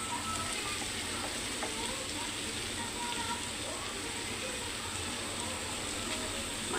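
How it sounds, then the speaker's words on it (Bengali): Meat added to spices already fried down in a pan, giving a steady, even frying sizzle throughout with faint stirring ticks, close and continuous with no talking. "আমার মশলাগুলো কষানো হয়ে গেছে, এখানে আমি মাংসটা আগে দিয়ে দিব।"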